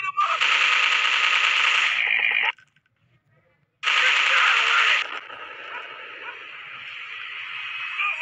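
Automatic weapons rattle in the Android FPS game Commando Strike on the Dustown level. Two loud, close bursts of rapid fire, each about two seconds long, are separated by a short silence, and a lower in-game hum follows.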